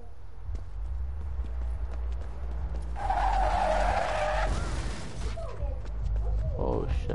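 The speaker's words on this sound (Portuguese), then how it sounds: "Poxa, você bateu no carro aí." A car in the Watch Dogs: Bad Blood video game skids with a loud sustained tire squeal lasting about a second and a half, then comes a crunching impact, over a steady engine and game-world background.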